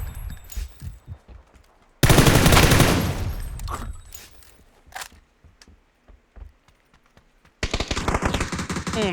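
Gunfire in a video game: a few scattered shots, then a loud, dense burst of rapid automatic fire that fades out, with a second sustained burst near the end.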